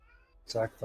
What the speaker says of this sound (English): You hear a light meow in the distance.